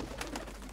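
Pigeons coo in the video game Reigns, a short, soft run of repeated coos standing alone over a quiet, steady background.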